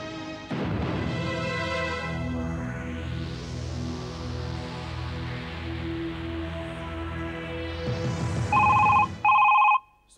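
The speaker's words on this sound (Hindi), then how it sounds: "सुनीति देखो किसका फोन है।" Two short bursts of an electronic telephone ring near the end, following a long stretch of swelling dramatic music.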